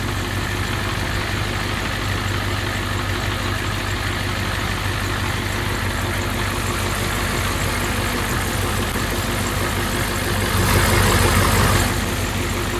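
The warm engine of a 1990 Ford E350 ambulance idles in neutral with a steady, loud, continuous rumble up close, swelling briefly near the end.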